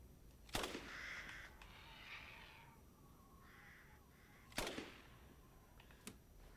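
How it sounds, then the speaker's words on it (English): Crows caw repeatedly in the game Resident Evil Village, several harsh calls spread across a quiet outdoor scene, with a couple of sharp loud bangs cutting in. "I hear more birds"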